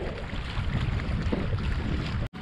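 Strong wind roars and buffets across a microphone out on the water while kayaking, a dense, continuous rush that cuts off abruptly near the end.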